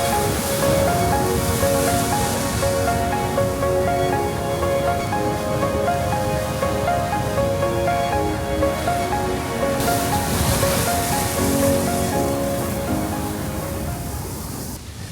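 Large winter-swell ocean waves break and surge at Kua Bay on Hawaii's Kona coast, a dense, steady roar of crashing surf and hissing whitewash that swells louder near the end of the set, with no voices.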